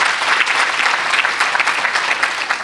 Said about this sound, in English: Big round of applause for Allison Prost.